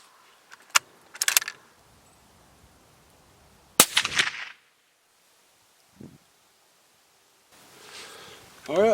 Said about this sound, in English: Now we're going to take 3 shots with the suppressor on and see what the difference is